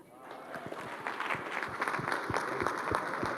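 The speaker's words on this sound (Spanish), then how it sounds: "Y ahora les pido un gran, pero un gran aplauso" Audience applause at a Spanish administrative-law jurisdiction conference, a steady wash of many hands clapping that swells slightly and holds for a few seconds in a hall.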